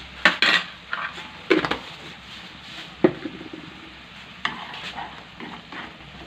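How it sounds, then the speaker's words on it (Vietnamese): Oysters are stirred in a pan with a utensil while cooking, with scattered scrapes, clinks and soft stirring noises against a light sizzle. "Đấy, mình đảo cho nó săn lại."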